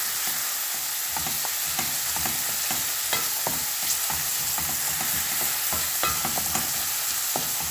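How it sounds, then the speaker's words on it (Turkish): Steady sizzling of onion and green pepper sautéing in oil, with frequent scraping and stirring taps from a utensil in the pan, close and continuous. "biraz sıvı yağ, yarım bir kuru soğan ve bir adet ince ince kıyılmış yeşil biberi doğrayıp bu şekilde soteliyoruz"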